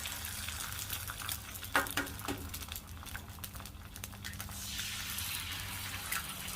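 An egg frying in bacon grease on a Monument Grills 56000 griddle, giving a quiet steady sizzle with a few soft scrapes and taps.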